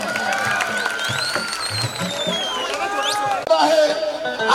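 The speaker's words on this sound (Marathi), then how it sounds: "माझ्या दीदीसाठी जोरदार टाळ्या वाजवा" Crowd at a live stage show breaking into applause and cheering, a rising wash of clapping and shouts mixed with a loud voice over a public address and ringing echoes, ending in a louder burst.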